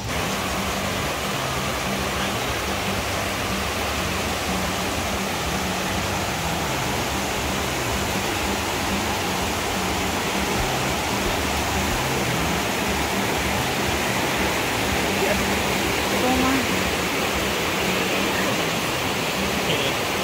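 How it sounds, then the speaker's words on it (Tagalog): A fast-flowing, flooding river roars steadily near a bridge, a dense continuous rushing that stays loud and unbroken with no voices. "Tingnan nyo ang lakas na ng tubig dito."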